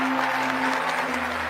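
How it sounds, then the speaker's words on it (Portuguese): Audience applause at a political rally, a steady, continuous wash of clapping that holds at an even level throughout with no talk over it. "então vamos aplaudir com entusiasmo. Aplaudam todos."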